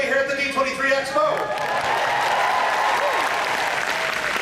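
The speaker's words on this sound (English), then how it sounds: "For that very warm applause." Warm crowd applause at a Disney songbook concert at the D23 Expo, a dense, sustained clatter of many hands. A voice speaks over the start before the clapping carries on steadily.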